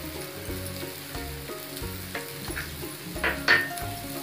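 Cashews and peanuts fry in a pan with a steady, close sizzle and soft crackling, along with a few stirring scrapes. A low, regular background rhythm runs underneath, and no one speaks.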